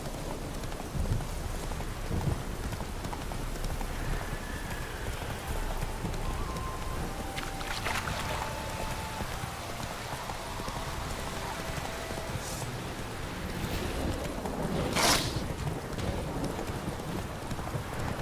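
Roach, the horse in Witcher 3, gallops with steady hoof clip-clop under a rain-like wash of ambience, moderately loud, with a few sharper accents.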